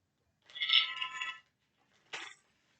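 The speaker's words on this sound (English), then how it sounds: "One more shuffle here." Tarot cards shuffled close by during a reading, one soft papery riffle lasting about a second, then a short sharp snap of the deck, quiet with no talk.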